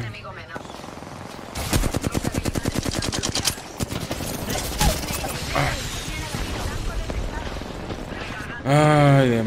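Rapid automatic gunfire bursts from the video game Apex Legends crackle loudly in quick rhythmic volleys, mixed with other game effects and a sweeping tonal sound at the end, with someone talking over parts of it.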